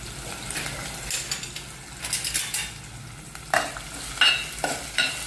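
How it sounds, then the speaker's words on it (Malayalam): Onion, green chili and ginger sauté with fenugreek seeds in hot oil, making a soft continuous sizzle punctuated by repeated scraping stirs and light utensil taps against the pan. "ഉലുവയിട്ട് പൊട്ടുമ്പോഴത്തേക്ക് ഉള്ളി, പച്ചമുളക്, ഇഞ്ചി ഇട്ട് വഴറ്റി"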